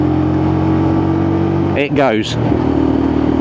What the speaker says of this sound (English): last thing I always check, 5th gear and pull it up the hill.